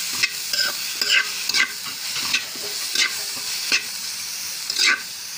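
Chicken breast fries in a pan as it is stirred, a steady close sizzle broken by regular scraping strokes of a utensil roughly every half second to second.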